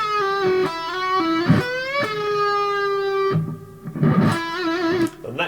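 Electric guitar lick played alone with a distorted tone: a bent note snagged by rolling back onto the string, then released, with several sustained, bending lines and short picked phrases over about five seconds.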